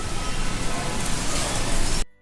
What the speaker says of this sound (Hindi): बारिश शुरू हो गया, ऐसा लग रहा है यहाँ पानी।